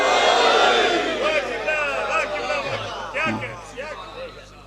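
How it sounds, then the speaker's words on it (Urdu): Crowd at a religious gathering in Muslim Town, Rawalpindi, chanting a slogan in unison, loud rhythmic group voices that swell and then fade toward the end. "سب اس نعرے میں شریک ہو جائیں سب"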